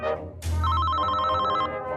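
A telephone rings after a brief lead-in sound, the bell trilling in a steady rapid pattern for over a second, fairly close and clear, with no talk.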